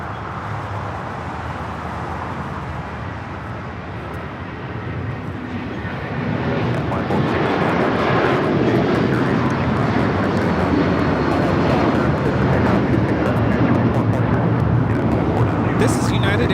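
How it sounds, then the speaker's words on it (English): United Airlines 757-300, flight 2113 to Chicago, takes off from runway 25 right at LAX, a broad engine roar that builds partway through and holds strong, with a person talking over it. "2113 taking off to Chicago on the 757-300"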